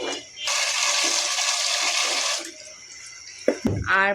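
Tap water gushes steadily into a pot while rice is washed in a home kitchen, a loud rush for about two seconds, followed by a few clinks and sloshes.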